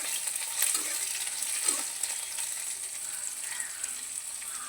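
Cut carp fish pieces fry in oil in a slightly scorched wok, giving a quiet, continuous hiss and sizzle with faint crackles and occasional stirring, and no voices.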